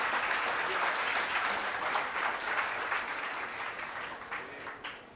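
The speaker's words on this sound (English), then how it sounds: "Yes, a round of applause." An audience at a law school event gives a round of applause, a dense, sustained clapping that fills the hall and slowly tapers off toward the end.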